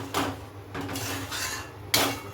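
Fried cauliflower pieces go into a pot of boiling fish curry, with a few clattering knocks of a utensil against the metal pot, close and fairly quiet with short pauses between them.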